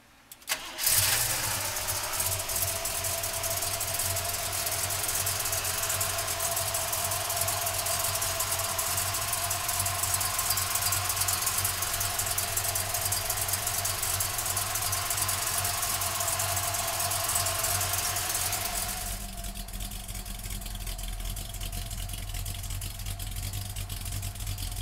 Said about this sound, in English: let's fire this big block up